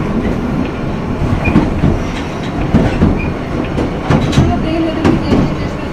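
A London Underground Piccadilly line train runs between Cockfosters and Uxbridge, with a loud rumbling ride, rhythmic clattering of wheels over rail joints and occasional faint squeals.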